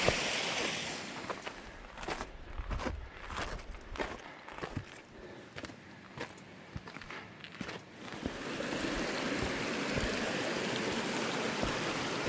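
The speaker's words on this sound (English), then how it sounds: "Here's the water crossing before Mirror Lake." A mountain stream at a rocky water crossing on the Mt Whitney trail: a steady rushing flow, with clattering footsteps over the rocks in the first part, then continuous water noise.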